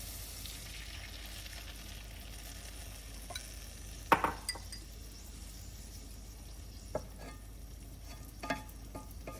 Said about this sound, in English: Now we're going to add the wine.